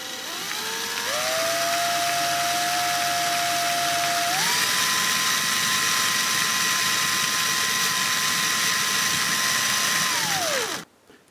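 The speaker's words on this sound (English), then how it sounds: "Of course I'm using a drill, not doing it by hand" An electric drill winding wire for a homemade relay runs steadily for about ten seconds, its motor whine stepping up in pitch partway through before spinning down and stopping.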